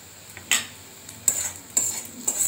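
A metal spoon scrapes and clinks against a pan while turmeric, coriander and Kashmiri chili powder are stirred, four distinct knocks over a low background hiss.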